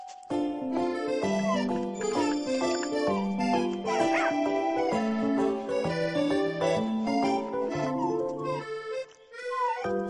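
In the Nintendogs+Cats game for Nintendo 3DS, a puppy gives small yips and whimpering barks scattered over a bright, bouncy music track that carries on until it briefly drops out near the end.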